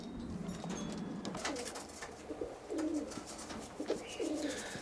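Roller pigeons coo in soft, low repeated phrases against a steady background hiss, with a few faint higher chirps mixed in.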